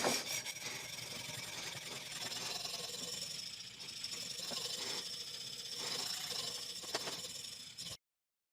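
A blade's leading edge is sharpened with steady rubbing, rasping strokes that run continuously for about eight seconds, close and fairly quiet, then stop abruptly.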